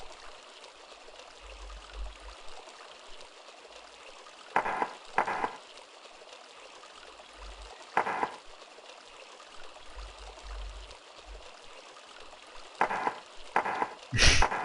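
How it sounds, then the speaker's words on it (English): Water runs steadily from pipes into a fountain in the Sanitarium video game, a faint continuous trickle broken by several brief louder bursts of other game sounds. "These pipes, they must control the water flow to the fountain."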